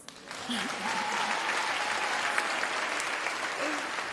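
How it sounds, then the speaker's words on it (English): Applause from the audience at a Unisa autumn graduation ceremony, a steady broadband clapping wash lasting several seconds at moderate loudness, with faint murmuring underneath. "I would have expected a round of applause"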